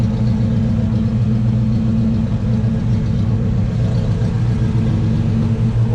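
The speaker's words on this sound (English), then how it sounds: "Go back so you can listen to the exhaust." A 1987 Chevrolet K10 Fleetside 4WD pickup in excellent condition idles steadily, its exhaust giving a loud, deep, continuous rumble close by with no voices.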